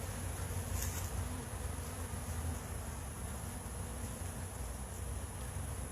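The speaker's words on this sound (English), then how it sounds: "So it looks like the bees are cleaning this up." A steady drone of honey bees working inside a hive they are cleaning up, low and even, with no voices and no pauses.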